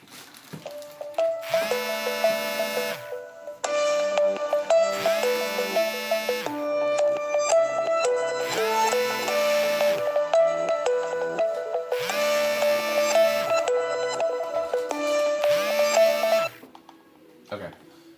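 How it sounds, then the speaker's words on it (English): A phone rings during an indoor recording: a looping electronic melody repeats in several loud cycles, each a few seconds long, for about sixteen seconds before it cuts off. "Get a phone call right in the middle of my video"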